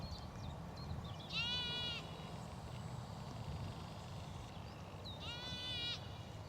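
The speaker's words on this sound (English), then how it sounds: "Sheep taking a break from the sun under the gorse." Two sheep bleats, wavering and moderately distant, come a few seconds apart over steady outdoor ambience while the flock shelters under gorse on a countryside walk.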